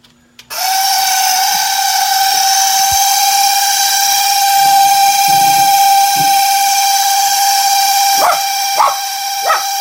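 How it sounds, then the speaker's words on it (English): A Chugger pump starts up and runs steadily, pumping collected wort up to the boil tank while brewing a Belgian Tripel at home, giving a constant loud tonal whine and hum with a few brief bumps near the end. "Okay, I got the chugger pump going."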